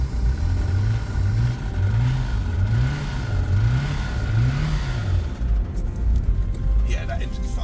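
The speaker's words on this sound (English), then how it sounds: "Yeah, that engine's fucked." A faulty Volkswagen Golf GTI engine idles rough and loud, its low pulsing drone wavering in an uneven cycle, with voices talking over it near the end.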